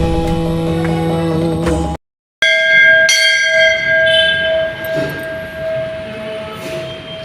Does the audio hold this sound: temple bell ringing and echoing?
yes